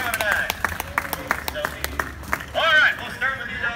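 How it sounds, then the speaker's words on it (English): Audience applause rises after a carnival-style bucket toss game is introduced, a burst of clapping and light cheering mixed with crowd chatter and a host's voice, moderately loud and brief. "Round of applause for Private Eyes"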